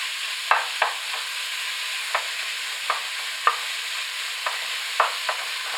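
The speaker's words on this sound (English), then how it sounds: "Now just put the ground beef in the pan" Ground beef is browned in a hot pan without oil, with a soft continuous sizzle broken by several sharp scraping taps as the meat is broken up. No one speaks.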